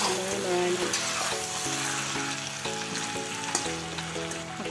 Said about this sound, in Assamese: সকলোখিনি ভালদৰে লৰাই ল'ম।